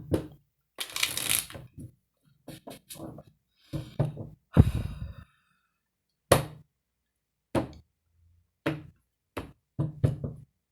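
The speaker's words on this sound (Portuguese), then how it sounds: "Vou tirar todas as cartas." Tarot cards are shuffled and drawn, giving a series of sharp separate slaps, riffles and taps with quiet gaps between them, close by, spread over about ten seconds.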